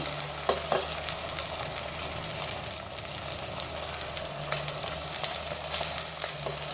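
Potato, corn, carrot and green chilies sizzle steadily in a pan for a vegetable oats pulao, a constant close frying hiss with a few faint clinks.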